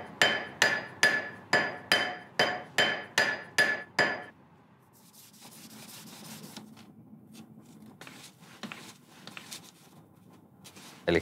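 Nine sharp, evenly spaced metallic hammer blows rounding a gold ring on a birch log, followed by quieter scraping and tapping.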